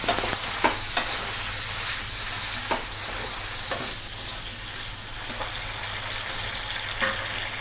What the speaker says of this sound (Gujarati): 2 નંગ મોટી સમારેલી ડુંગળી અને 3 થી 4 નંગ સમારેલા ટમેટા. હવે આપણે તેને સાતળીશું.